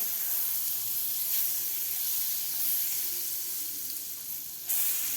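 Butter melts and sizzles in a pan for anda pav, a steady, close, bright frying hiss that continues throughout without speech.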